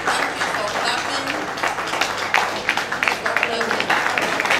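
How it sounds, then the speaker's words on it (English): Audience clapping at a training event for senior administrators, a moderate burst of applause with distinct individual claps and voices talking over it. "Thank you for clapping."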